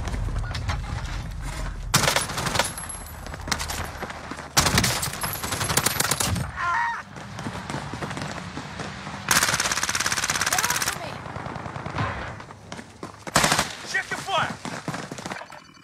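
Gunshots fired in bursts, loud rapid volleys and single cracks spread across the clip with pauses between, close and harsh.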